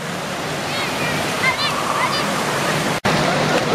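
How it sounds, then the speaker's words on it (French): Wave pool at a water park surging with a broad washing roar of churning water, close and steady, with faint voices and shouts in the background. "Et maintenant, c'est l'entrée dans la piscine à vagues."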